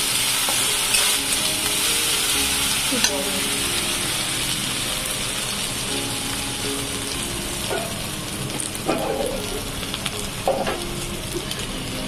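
Browned onions sizzle steadily in a pan as ginger-garlic paste goes in, with a continuous frying hiss and occasional spoon scrapes and clinks.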